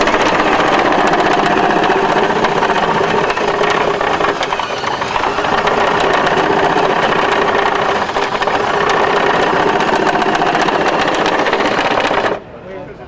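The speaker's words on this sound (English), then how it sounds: "So to demonstrate here, I'll eject these leaves." An iRobot Looj gutter cleaning robot runs its auger to eject leaves, producing a loud, continuous motorized whir with rapid rattling and clicking debris for about twelve seconds before cutting off abruptly.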